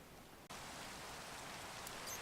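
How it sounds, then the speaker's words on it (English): Minecraft rain, a dense, even hiss of falling water that cuts in abruptly after a brief quieter moment and then continues steadily at a soft level. "excuse the rain and those bats"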